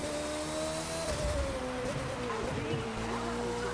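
A Red Bull race car engine in a racing video game drones at a steady pitch that dips and shifts as the throttle is released through a corner, with a close, continuous tone and a faint rumble underneath.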